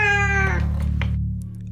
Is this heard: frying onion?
no